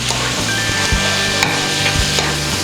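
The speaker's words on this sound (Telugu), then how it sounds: "ఆనియన్, టమోటా, పాలకూర అన్నీ బాగా మిక్స్ అయ్యేలాగా ఇలా కలుపుకుందాం." A spoon stirs pasta with onion, tomato and spinach in a sizzling pan over high flame. Scrapes and soft knocks land in an irregular rhythm, close up over a steady frying hiss, and no one speaks.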